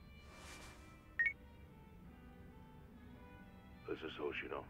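A phone rings in the video game Like a Dragon: Yakuza, heard as short, quiet electronic chirps, one brief burst early and a warbling cluster near the end, with a voice briefly beforehand.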